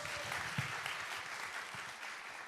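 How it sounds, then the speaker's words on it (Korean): An audience at a Korean talk show applauds, a steady patter of clapping from a crowd heard at moderate distance, fairly faint and without speech over it. "박수 한번 부탁드리겠습니다"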